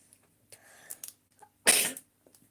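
A single sharp, explosive sneeze rings out close by, preceded by a few quiet breaths and small rustling noises.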